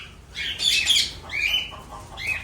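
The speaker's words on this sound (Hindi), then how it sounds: "सीढ़ी अंदर लेकर आया तो तोतों में खलबली मच गई है दोस्तों।" Pet parrots squawk in agitated commotion indoors, several loud, harsh, close calls in quick succession with no talk.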